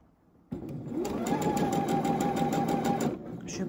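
A sewing machine stitches a tank top seam in one steady, even run of about two and a half seconds, loud and close, starting abruptly and stopping cleanly.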